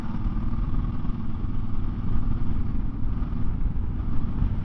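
Voge DS800X Rally motorcycle engine running in sixth gear under light throttle play, a continuous close, rumbling drone with slight surges and a faint mechanical clatter, with no speech.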